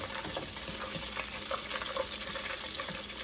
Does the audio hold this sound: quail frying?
yes